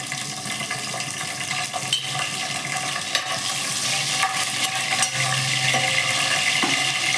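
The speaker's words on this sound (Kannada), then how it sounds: "ಹಸಿಮೆಣ್ಸಿಕಾಯಿ ಹಾಕ್ತಾ ಇದ್ದೀನಿ." Green chillies sizzle and crackle steadily in hot oil in a pan while cooking fried rice, with occasional stirring and utensil scrapes, close and continuous with no voices.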